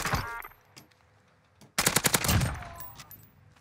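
Krig 6 assault rifle fire in Warzone: a lone shot and a few faint clicks, then a loud, rapid automatic burst of about nine shots that tails off into echoing decay.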